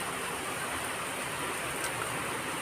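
Heavy monsoon rain falling outdoors, a steady broadband hiss of rain that fills the whole moment evenly without letup, no voices.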